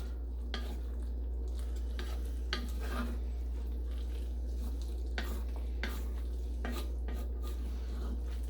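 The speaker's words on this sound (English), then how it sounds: "Just a nice stir." A spoon stirs Halloween hash in a Dutch oven, giving soft scraping and clinking strokes against the pot at an uneven pace over a steady low hum.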